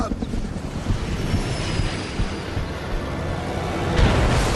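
Helicopter in the X-Men Origins: Wolverine video game: a loud, steady rotor-and-engine roar with a rumbling low end, mixed with game action sounds and a voice talking over it.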